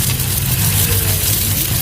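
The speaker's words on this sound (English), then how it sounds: "And there goes the neighbour's ute." A ute engine rumbles nearby as the vehicle pulls away, a loud, steady low drone across a short stretch with no talking.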